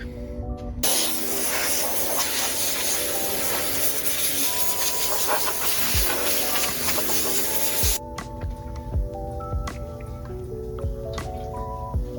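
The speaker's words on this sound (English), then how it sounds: "Spray with some air, get the dust out of the way" Compressed air sprays loudly and continuously into a car engine bay being refreshed for paint, a broad steady hiss lasting about eight seconds before cutting off, followed by a quieter tail of small ticks and clicks.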